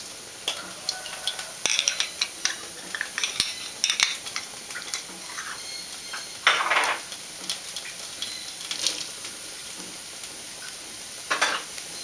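Dried large chillies, spices, lemongrass and kaffir lime leaves are dry-roasted in a pan over medium heat for a spicy Thai cartilage soup, giving a soft continuous sizzle broken by repeated scraping stirs of a utensil against the pan.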